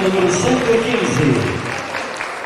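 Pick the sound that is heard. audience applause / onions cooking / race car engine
audience applause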